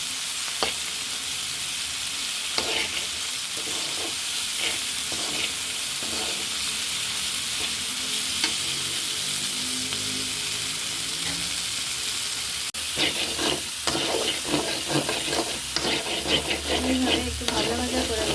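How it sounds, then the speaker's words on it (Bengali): Fish frying in a pan, a continuous sizzle with scraping stirs, growing louder and busier toward the end, with no talking. "এইভাবে একটু ভাজা ভাজা করে নিতে হবে মাছটা"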